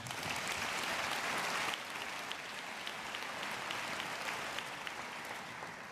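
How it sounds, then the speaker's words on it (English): Audience applause at a Pinckney High School commencement in 2016, steady crowd clapping that drops slightly in level early on and continues evenly for several seconds. "So if you want to give them a round of applause."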